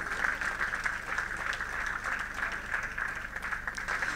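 An audience applauds a woman introduced at a Miss Burkina pageant event, a continuous, even wash of many clapping hands that carries steadily throughout with no break.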